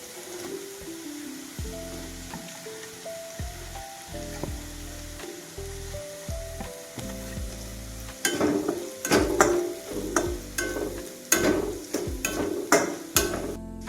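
Chili powder and turmeric roast in a pan for a Maharashtrian pavta amti, giving a steady sizzle under a faint music bed, then from about eight seconds a run of sharp, loud clinks and scrapes of a spoon stirring against the pan.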